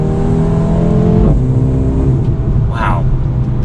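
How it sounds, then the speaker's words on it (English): 2020 Mercedes-AMG A35 engine and exhaust pulling hard under acceleration, a loud rising tone that drops sharply at a quick gear shift and climbs again, heard from on board. "Get some good engine and exhaust noises."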